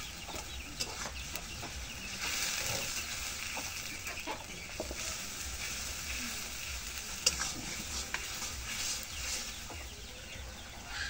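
Chicken sizzles in a pan with turmeric and chili powder while being stirred, a soft steady frying hiss broken by occasional scrapes and clicks, fairly faint and close.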